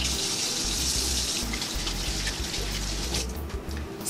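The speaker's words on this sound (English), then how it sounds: "Wash your hands, kids." Hands are rinsed under a running kitchen tap, a steady close splashing gush of water that continues throughout with no speech.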